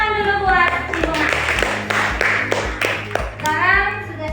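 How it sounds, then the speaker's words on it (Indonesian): Students in a classroom clap together for a classmate, a mix of sharp hand claps and children's voices chattering over a steady low hum. "tepuk tangan dulu buat Sinuha."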